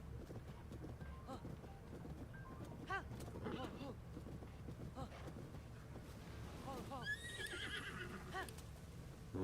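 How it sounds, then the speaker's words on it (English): A horse in Zelda: Tears of the Kingdom lets out a couple of close whinnies over soft game ambience and wind. Faint hoof and game sounds mix in. "Look at this horse."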